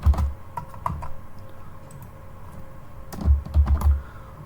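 Typing on a computer keyboard while working in an Excel spreadsheet: a few soft key clicks at the start, a pause, then a quick cluster of keystrokes, close and quiet with no talking.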